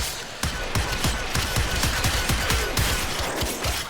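Rapid automatic gunfire from enemy heavy gunners in a video game, a steady string of sharp close shots about every quarter second over a dense, loud battle din.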